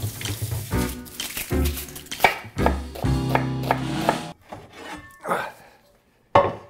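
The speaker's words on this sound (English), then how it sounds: "So the white of one leek, but this is looking pretty gnarly, so I have a backup leek. And then sliced." A knife slices through a leek on a wooden cutting board, giving a run of close, crisp chopping and rasping strokes in irregular rhythm, with a few pauses and a final sharp cut.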